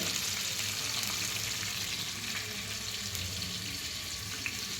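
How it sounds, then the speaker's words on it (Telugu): Green chillies fry in hot oil in a pan while being stirred, a steady close crackling sizzle that runs throughout with light scraping and no talk. "ఇలా పచ్చిమిర్చి వేసిన తర్వాత ఇలా కొంచెం అవి ఎర్రగా అయ్యేదాకా ఇలా కలుపుకోవాలి"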